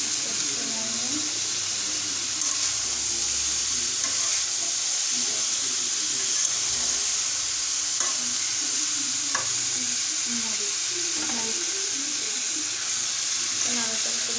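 Koi fish masala frying in a pan and being stirred: a steady, loud sizzle runs throughout with intermittent scraping strokes, and a faint voice is heard in the background.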